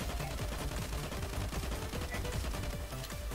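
Rapid gunfire from a video game set in a desert sea server, dense bursts of shots repeating quickly and steadily throughout, no talk over it.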